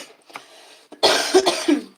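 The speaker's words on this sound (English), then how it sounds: "excuse me, for I'm coughing" A single loud cough bursts out close by after a second of quiet, a lighter throat sound just before it.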